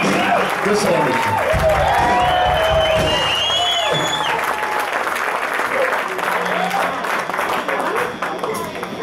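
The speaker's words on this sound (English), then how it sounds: "round of applause" A crowd at a live rock show in a Shirley, Massachusetts restaurant applauds and cheers a band, with loud dense clapping and whoops. A voice and some stage sounds rise over it early, then the clapping carries on alone.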